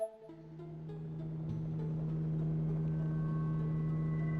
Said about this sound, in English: Helicopters flew by overhead